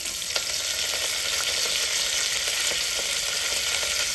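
Curry leaves and coriander sizzle in hot oil in a pan, a steady bright crackle with small pops scattered throughout, close and alone with no talk.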